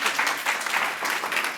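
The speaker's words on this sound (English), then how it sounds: "Let's clap it up again." Audience at a Monday Poets poetry reading applauding, with dense, even clapping from a small crowd sustained throughout and no voices over it.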